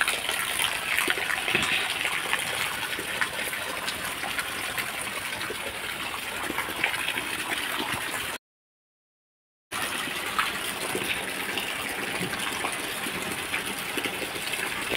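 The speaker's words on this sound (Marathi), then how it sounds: "आणि वरचं पाणी असं पडतं इथनं धबाधब" Heavy rainwater pours down from above near a vegetable garden with brinjal plants after a night of steady rain: a dense, continuous rushing roar that stays loud and even, broken once by a short silence.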